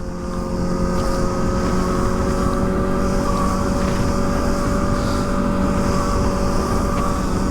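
A Kawasaki ZX-4RR KRT motorcycle cruising on a freeway, engine droning steadily with a constant whine and heavy wind rush, holding an even, continuous level throughout.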